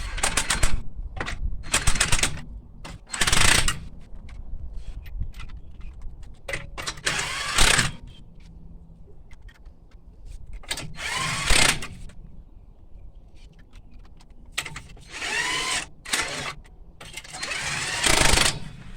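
Wheel nuts on a car wheel are run up with an impact gun during a flat tyre repair, giving several loud, short rattling bursts separated by pauses over a low background hum.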